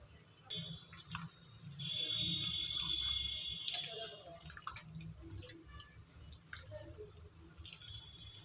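A hand stirs ragi (finger millet) flour into water to make porridge, giving soft wet squishing and dripping sounds close up, with a steady hiss and occasional clinks throughout.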